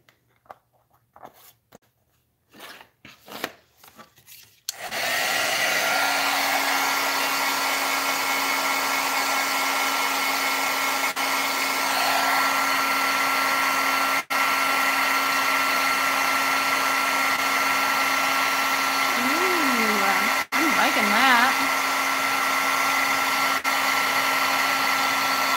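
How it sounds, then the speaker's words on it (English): A craft heat tool blows hot air over embossing powder, switching on after a few soft taps and then roaring as a loud, steady, continuous whoosh with a constant hum, close by, with brief dips where it is moved. "it's gonna blow off when I put my heat tool on there"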